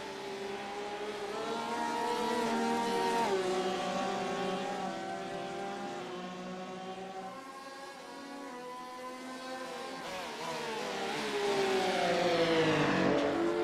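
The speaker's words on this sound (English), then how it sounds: "You can hear him bashing away at the top of the rev limiter there." A Porsche race car in a sim racing game at Bathurst drones at high revs, pitch climbing and dipping through gear changes with a buzzing, held tone near the rev limiter, steady and unbroken.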